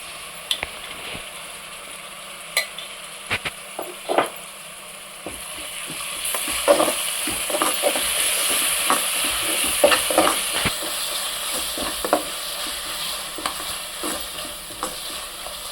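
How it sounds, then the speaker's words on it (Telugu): Ginger-garlic paste sizzles in hot oil while being stir-fried for a bendakaya (okra) curry, with a steady frying hiss broken by repeated scrapes and clacks of the spoon against the pan, no voices. "నూరుకున్న అల్లం ఎల్లిగడ్డ వేస్తాను ఫ్రెండ్స్."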